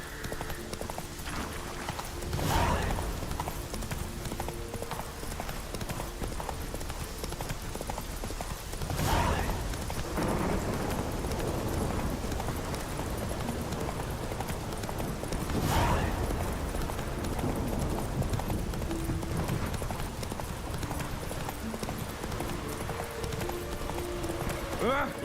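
Roach the horse gallops in The Witcher 3, with rhythmic hoofbeats clopping continuously over game music and ambient noise, and a few louder thuds standing out.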